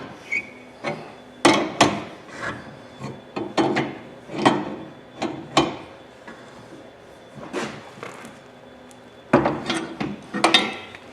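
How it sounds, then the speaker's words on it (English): Tightening a bolt on a steel Humvee tire carrier by hand, heard as a run of sharp knocks, clanks and metallic scrapes in irregular bursts, close and fairly loud with brief pauses between strokes. "we'll tighten this very tight."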